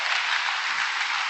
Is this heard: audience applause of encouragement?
yes